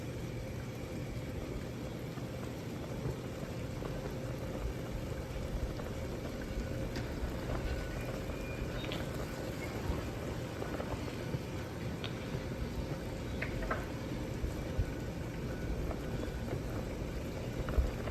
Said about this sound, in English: So you can see that's a hard boil.